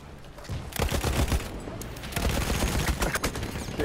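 Rapid gunfire in the Battlefield 1 multiplayer game, loud overlapping bursts of shots and explosive cracks filling the whole few seconds.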